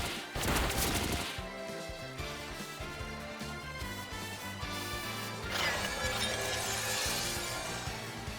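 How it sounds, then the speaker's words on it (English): Pin Missile attack in the Pokemon Champions video game, a dense barrage of sharp crashing, thwacking hits layered over continuous game music, loud and busy throughout with a second burst of impacts near the end. "Pin Missile"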